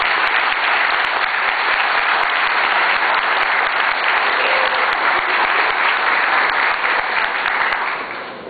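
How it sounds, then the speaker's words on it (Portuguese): A conference audience at a PHP event in Brazil applauds a speaker with loud, continuous clapping that holds steady for several seconds before thinning out at the end. "Eu quero que todos vocês saúdem com uma salva de palmas a Sandro Souza"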